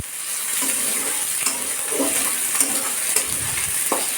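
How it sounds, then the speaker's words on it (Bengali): Prawns frying in a pan, a steady close sizzle with soft stirring scrapes and occasional spits, continuous and moderately loud with no talking. "ইঁচড়ের চিংড়ি মাছ ভাজা হচ্ছে, আর এখানে মিনির মাছ ভাজা হচ্ছে।"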